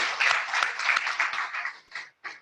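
A crowd applauds the presenters at a 2020 AI challenge ideation event: a full burst of clapping that thins out, stops briefly, then returns in a short final flurry.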